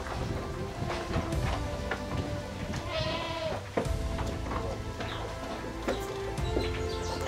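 Mubende goats and Mubende crosses bleat several times in a busy farmyard, with other animal calls and background noise throughout.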